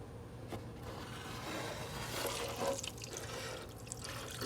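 Water runs steadily from a tap while a turtle is gently rinsed in a bath, with close splashing and dripping and a few brief knocks against the basin.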